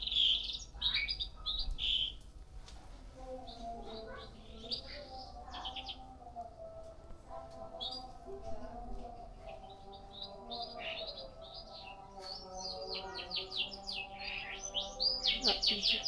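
Several birds at an outdoor bird market in Malang, Indonesia, including turtle doves kept in a small cage, chirp and call in bursts over a low, busy background with faint voices.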